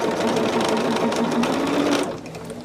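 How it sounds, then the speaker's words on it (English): A sewing machine joins quilt block units to a pinwheel in a steady rapid close whir that runs loud and continuous, then slows and quiets at the end. "I just turn it sideways and sew it to one of the pinwheels."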